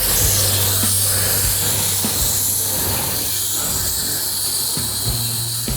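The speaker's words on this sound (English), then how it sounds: "We're gonna go ahead, start filling this drain pan up." Loud, steady hissing rush of water filling a drain pan, continuous throughout with faint low hum and a few small knocks, close and without talk.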